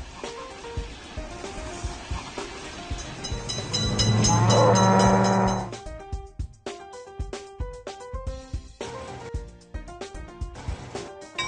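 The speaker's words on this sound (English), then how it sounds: "Train is in sight!" An approaching train in the Railroad Crossing video game, its rumble swelling to a loud, dense peak midway before cutting off, over a busy backdrop of game music and sound effects.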